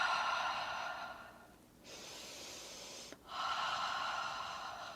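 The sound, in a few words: heavy breathing during a cardio workout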